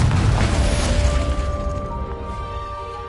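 The Confringo fire spell in a Harry Potter video game sets off one loud, close explosive boom that rumbles out into a fading tail over a few seconds.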